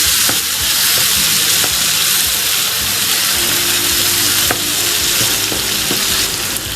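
Roughly chopped tomatoes and golden-browned onions sauté in a hot pan for a Durban bunny chow, giving a loud, continuous sizzle with occasional stirring scrapes close up.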